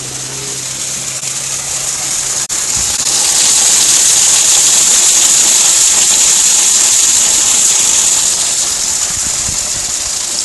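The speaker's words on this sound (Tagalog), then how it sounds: "Malakas ang tubig sa clubhouse pagka nakakuan." Strong water flow at a clubhouse, a loud, steady rushing hiss that swells after a couple of seconds and continues unbroken, close by and with no talking.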